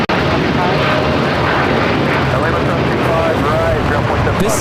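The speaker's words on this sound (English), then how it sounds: "This is Air Tahiti Nui, flight 8, taking off to Paris on the 787-9 Dreamliner" Air Tahiti Nui Boeing 787-9 Dreamliner on its takeoff roll, a dense, continuous loud engine roar holding steady throughout, close by, with a brief thump at the very start.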